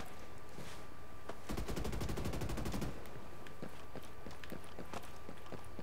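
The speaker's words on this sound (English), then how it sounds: "Hostiles are firing" Automatic gunfire rattles in a rapid, evenly spaced burst in the Ghost Recon Breakpoint PvP game. Scattered single shots and footsteps follow, with a faint steady hum underneath.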